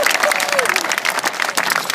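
Race crowd at a Vermont speedway pre-race ceremony applauding a driver introduction, dense clapping and cheering that fills the whole moment, with a voice speaking over it.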